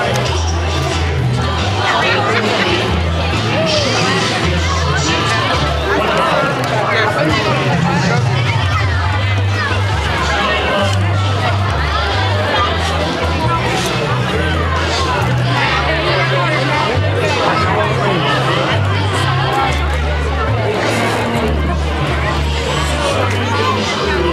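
Dense crowd chatter fills a busy Halloween event, many voices overlapping into a constant loud babble with no pauses throughout.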